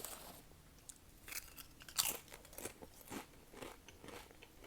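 Doritos Cool Ranch chips are bitten and chewed up close, with quiet, irregular crunches and crackles over several seconds.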